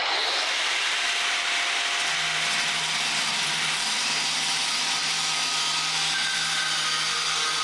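A power tool cuts through material in a steady, loud, continuous grinding whir with rough broadband texture, holding constant for the whole stretch with no talk.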